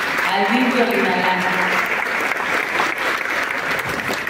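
An audience at a school kitchen equipment handover event applauds the DIF Olinalá, steady dense clapping that stays loud throughout, with faint voices underneath at the start.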